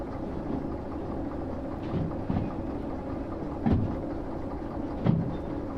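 A DH4 diesel locomotive engine in the Derail Valley simulator runs with a low, continuous rumble amid light rain, with a few soft clunks and thumps over the steady drone.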